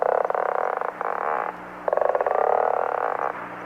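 A sound-effects frog croak made by rubbing a rosined string attached to a tin-can drumhead, given as a few rough, buzzing croaks in bursts with short pauses, close and fairly loud.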